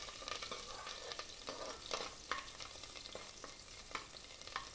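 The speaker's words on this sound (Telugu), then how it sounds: "సన్నగా పొడుగ్గా తరిగిన అల్లం ముక్కలు, ఎల్లిపాయ ముక్కలు వేసి 2 నిమిషాలు ఫ్రై చేసుకోవాలి" Thin strips of ginger and garlic fry with spices in hot oil for mutton paya (goat trotter) soup, a steady sizzle broken by irregular scraping stir strokes, close and moderately loud with no voices.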